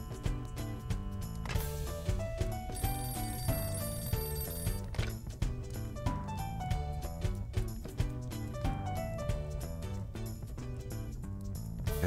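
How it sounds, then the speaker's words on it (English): Telephone ringing in the video game Shadow Hearts, a steady electronic trill repeating over the game's busy background music, with no voices. "oh yeah, the phone."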